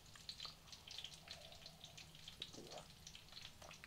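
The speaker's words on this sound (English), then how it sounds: "Oh, listen to those sausages sizzling away." Sausages frying in a pan on a boat, a soft steady sizzle with scattered crackles and pops, close and quiet, no talking.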